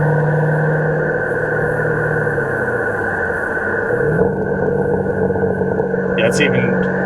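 Steady mid-pitched engine drone from a 2009 Ford Mustang Shelby GT500 on a test drive, the pitch sagging and then stepping up as it downshifts, heard from inside the cabin with a brief high chirp near the end.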